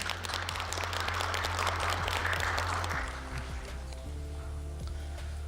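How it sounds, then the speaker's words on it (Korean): Studio audience applause on a Korean KBS political talk show, a dense broadband patter of many hands that fills the first three seconds and then thins and fades under steady low hum. "박수 한번 보내주십시오"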